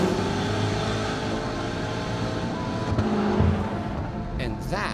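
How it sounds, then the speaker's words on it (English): A Dodge Charger Hellcat Redeye engine with a deep, continuous rumble that swells slightly partway through, heard close and loud, with people talking over it. "this is the Charger Hellcat Redeye."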